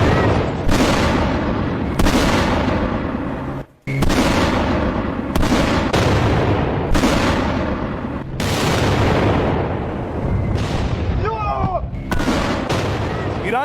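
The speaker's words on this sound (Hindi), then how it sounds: "अब ये मिसाइलें धमाका कर रही थी, इमारतों पर गिर रही थी" Missiles explode in Israel in news footage. Heavy, loud blasts and booms follow one another every second or two, filling the whole stretch with rumbling detonations, with one brief drop-out partway through.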